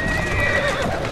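In Assassin's Creed Syndicate, a horse whinnies loudly over the clip-clop of galloping hooves, heard close in one short burst.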